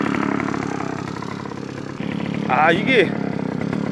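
A two-stroke brush cutter engine runs steadily while cutting weeds on a farm, its fuel-oil mix reportedly off and the engine smoking heavily; a constant close mechanical drone continues throughout while someone speaks briefly over it.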